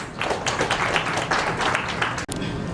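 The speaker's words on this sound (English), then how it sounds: "can we give a round of applause to him, please?" Conference audience at a medical education summit clapping for a keynote speaker: a few seconds of steady, fairly close applause from a hall crowd, cutting off abruptly near the end.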